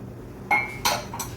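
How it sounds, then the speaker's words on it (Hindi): Cups and dishes clink while Kashmiri pink chai is served: three sharp ringing clinks about a third of a second apart, close and fairly loud over a quiet kitchen background. "अब मैं टी को आपको सर्व करके बताती हूँ"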